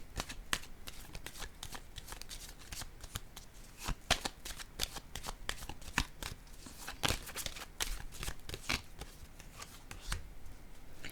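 Tarot cards are shuffled and handled on a table, then laid down, producing a quick run of crisp close flicks and slaps in an irregular rhythm, fairly soft, with no talk over them.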